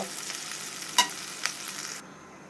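Small local prawns fry in a pan, a soft steady sizzle broken by a few sharp scraping stirs, close and alone with no talk.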